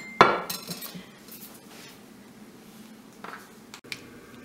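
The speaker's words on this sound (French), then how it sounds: "toujours votre gros saladier, qui est toujours utile, vous le retournez sur le pâton" A large glass salad bowl is set upside down over a dough ball for pain cocotte, giving one sharp clink near the start, soft scraping and shuffling after it, and a faint second knock near the end.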